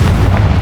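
Confringo blasting spell cast in the Hogwarts Legacy video game, a short loud booming blast with a heavy low rumble sustained through under a second, no voices.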